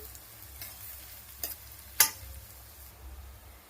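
Finely chopped onion, about a cup, fries in a pan for a vegetable curry: a soft, steady sizzle with a couple of sharp spatula scrapes as it is stirred, fairly quiet with no voices.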